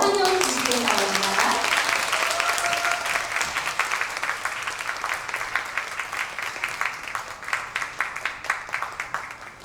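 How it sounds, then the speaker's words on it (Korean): Warm applause from the audience at a women's conference as a lecturer is welcomed onstage, a dense crowd of clapping that thins into steadier rhythmic claps, with a voice briefly heard over it at the start. "뜨거운 박수로 환영해 주시기 바랍니다"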